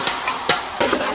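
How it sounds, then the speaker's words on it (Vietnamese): Chicken stir-frying in a pot with garlic and lemongrass for a lemongrass chicken stew, a close, steady sizzle with a few louder stirring scrapes, no voices. "Giờ tiếp theo mình sẽ cho phần thịt gà vô nồi luôn nha."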